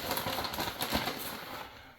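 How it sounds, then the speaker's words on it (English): Plastic bag of shredded Mexican cheese crinkles and rustles close by in quick, irregular bursts, fairly faint, with no talking. "Sorry about the bag noise."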